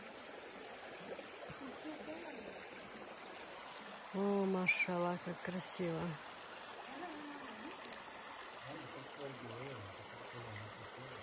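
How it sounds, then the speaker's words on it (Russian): A clear mountain stream flows with a steady, continuous rushing wash close by, while a person speaks briefly partway through. "Чистая горная вода."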